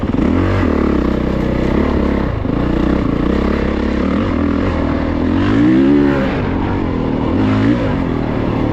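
A Honda CRF450RX dirt bike rides woods trails in dry conditions, its engine close and loud, revving up and down with throttle blips and a rising pull, likely during a wheelie.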